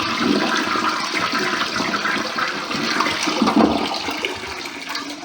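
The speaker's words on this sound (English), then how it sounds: "Flushes perfectly." A toilet flushes close by in a beach accommodation bathroom, a steady loud rush of swirling water lasting several seconds without any voices.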